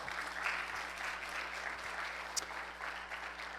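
A church congregation applauds Pastor Oscar with steady, moderately distant clapping that holds evenly throughout, with a faint voice underneath.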